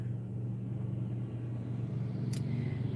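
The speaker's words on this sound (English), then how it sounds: "And there goes a school bus." An empty school bus drives past outdoors with a low, steady engine rumble at moderate distance and a brief sharp high click partway through.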